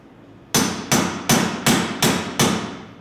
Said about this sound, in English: it looks like we can smack the pin out of that U-joint.